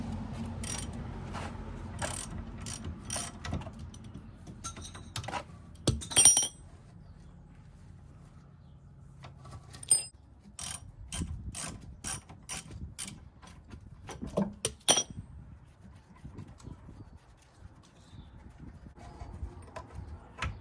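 Spanners clink and ratchet on a Hyundai Coupe during coilover ride-height setup, with bursts of rapid metallic clicking and clanking separated by quiet pauses, close and moderately loud.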